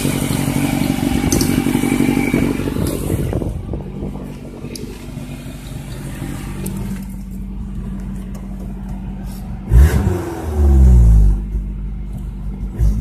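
A turbocharged Honda Civic D16Y7 engine runs at a steady, slightly fast idle with a low rumble, and a brief louder surge and clunk arrive near the end.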